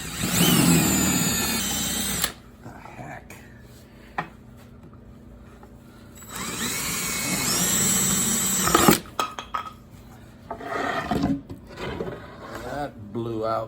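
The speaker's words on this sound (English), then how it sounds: "It's a 3/8 inch diameter drill bit." A power drill with a 3/8 inch bit bores through closet organizer material in two loud whirring bursts, separated by a quieter stretch, with a person talking nearby between and after the runs.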